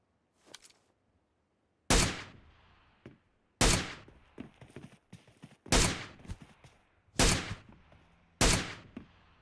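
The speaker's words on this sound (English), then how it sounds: "That's what the gun sounds like without the silencer." A new unsilenced gun in the PUBG Mobile game fires loud, sharp single shots, about six spaced reports each with a short echoing tail, with quieter clicks between them and no talking.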